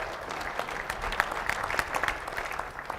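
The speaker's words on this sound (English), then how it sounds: "you can applaud" Audience at a panel discussion on challenges facing Illinois breaks into brief, moderately loud applause, dense overlapping claps with a few sharper hand slaps standing out, no talking over it.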